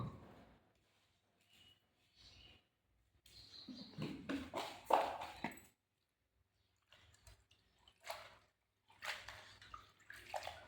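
A goat drinks water mixed with vegetables and rice bran, making intermittent sloshing and lapping bursts that are close and fairly quiet, separated by short silences.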